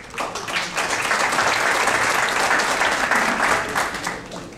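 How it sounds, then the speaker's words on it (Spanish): A crowd at an indoor public event gives sustained, dense applause that swells and holds steady before tapering slightly at the end. "Vamos a darle un fuerte aplauso."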